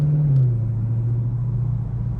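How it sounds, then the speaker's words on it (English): A car passes on a road in light summer traffic, a loud low rumble that falls slightly in pitch as it goes by, then a steady fading drone. "So traffic is starting to pick up"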